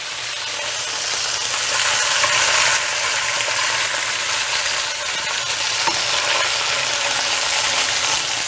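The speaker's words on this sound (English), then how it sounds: "I'm going to go ahead and flip it, and we're going to sear our other side." Stuffed Tuscan chicken sears in a hot pan after being flipped with tongs, giving a steady, loud, dense sizzle that runs without a break from start to finish.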